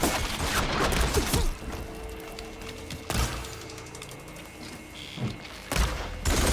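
Gunfire in the video game Horizon Forbidden West during a village defense: several sharp bursts of shots and impacts separated by quieter gaps, with mechanical rumbles in between.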